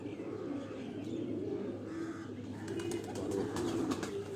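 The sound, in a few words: golden pigeons cooing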